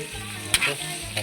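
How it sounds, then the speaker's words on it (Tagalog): Meat and chayote go into a hot pan, crackling with a brisk sizzle and a couple of sharp stirring scrapes close up. "lagay natin yung karne saka natin lagay yung sayote"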